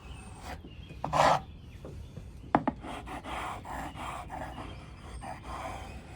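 A chisel being rubbed back and forth on an Arkansas sharpening stone, a rhythmic gritty rasping close up, with a few sharp clicks and a brief louder scrape early on, no talking.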